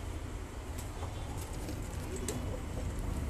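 Bombay pigeons cooing softly in a loft, low repeated coos under a steady background hum, with no voices.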